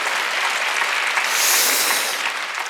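A church congregation at an Easter worship service bursts into loud, dense clapping that swells briefly in the middle and then tapers slightly.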